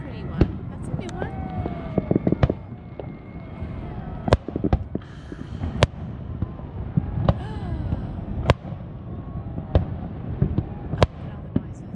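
Fireworks burst over the water off the Big Island of Hawaii on the 4th of July, heard from a boat anchored offshore: sharp booms and cracks at irregular intervals over a steady crackle, with people chatting and reacting throughout.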